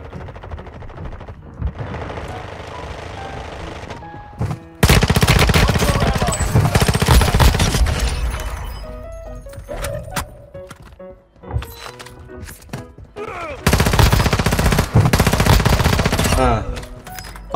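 Rapid bursts of automatic gunfire in Call of Duty Warzone Mobile, loud and dense in several long volleys with short pauses between them, with faint game voices underneath.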